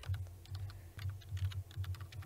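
Typing on a computer keyboard: quick, light key clicks in an irregular run, close and fairly quiet, with no voice.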